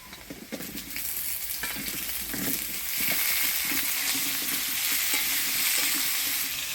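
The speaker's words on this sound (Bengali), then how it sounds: "আলু আর পটলটা হালকা আছে ঢাকা দিয়ে ভাজি নেব" Potatoes and pointed gourd frying in a pan, a loud, close sizzle that swells and stays constant while a utensil stirs and scrapes in short strokes, with no voices.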